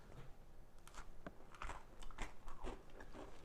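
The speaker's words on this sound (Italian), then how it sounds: "Ma io voglio fare il morso." Several crisp, quiet crunches come from biting into eggless, butterless chocolate chip almond biscotti, irregular bites and snaps spread across a few seconds with no talk.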